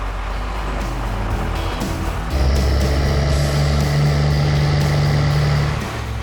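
A 12-volt Cummins diesel swapped into a 1962 C30 truck rumbles loudly and steadily, with a deep droning hum that swells as the engine revs up partway through and holds close to the mic with no talking.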